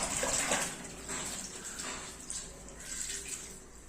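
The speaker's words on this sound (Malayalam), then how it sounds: "ഞാൻ ഇനി ഇത് നിങ്ങളെ ഒന്ന് കഴുകി കാണിക്കാം." White clothes are washed by hand in water with no bleach or chlorine, giving steady sloshing and splashing throughout, loudest near the start and then settling into softer, continuous swishing.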